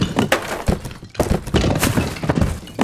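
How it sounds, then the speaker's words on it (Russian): Video game destruction effects for boxes, stones and bottles: a dense run of close, loud cracks, thuds and glassy breaking hits, tumbling one after another with a brief gap midway. "Здесь вот есть звуки коробки, звуки камней, звуки каких-то там еще бутылок."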